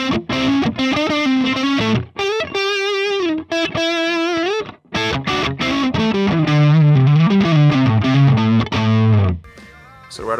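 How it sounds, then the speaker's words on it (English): Fender Stratocaster electric guitar fitted with Sir pickups, played through an ML Dizzy amp impulse response, gives loud distorted sustained notes and bending lead phrases played alone. "It's the Fender Strat with Sir pickups on it."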